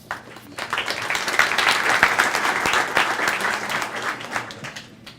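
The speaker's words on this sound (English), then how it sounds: "Thank you for the applause." An audience applauds a student of the month, the clapping swelling quickly into a full round, holding for a few seconds and then trailing off.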